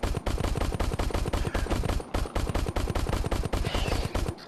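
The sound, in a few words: gunshots in the VR video game Crashland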